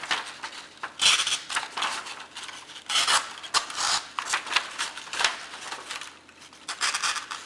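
A VG-10 steel Spyderco Delica knife does repeated cut tests, giving a series of dry, rasping slicing strokes in uneven bursts, close and fairly loud, with brief pauses between cuts.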